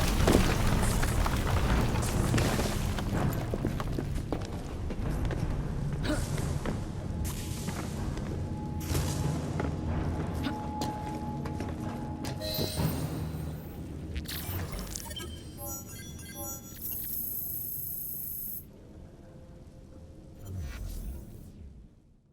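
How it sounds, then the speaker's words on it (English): A Piece of Eden detonating inside a lab in Assassin's Creed Syndicate: a long, loud rumbling blast with crashing debris that slowly fades, followed by scattered clattering and a final low boom. "Piece of Eden detonated and took the lab with it"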